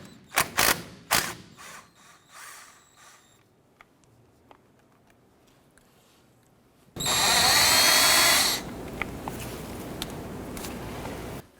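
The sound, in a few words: removing 13mm brake caliper bolt on a Ford Ranger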